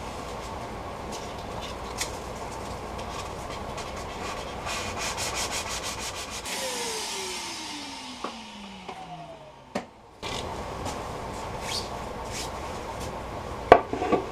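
Steady rubbing hiss of sandpaper against a wooden lazy susan spinning on a lathe after coats of sanding sealer, the motor then winding down with a falling tone before faint sanding resumes.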